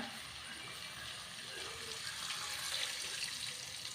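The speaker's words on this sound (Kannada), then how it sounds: "ನೀರು ಪಾಡಗ" Water pours steadily into a cooking pot for a few seconds, a soft, continuous rushing that swells slightly toward the end, heard alone without talk.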